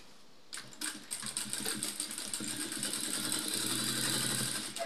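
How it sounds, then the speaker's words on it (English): A sewing machine stitches a mikado fabric dress, its fast needle chatter starting abruptly and running continuously, close and fairly quiet, with no talking. "Now I'm going to sew, having pinned it down. I'll sew it round."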